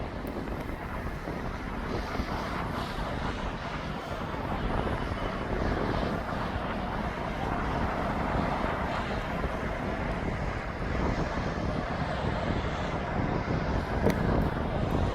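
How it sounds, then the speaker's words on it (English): Airplane departing East Midlands Airport in the evening, a steady broadband jet roar with wind buffeting the microphone, sustained and moderately loud throughout. "This is the last departure now for a while"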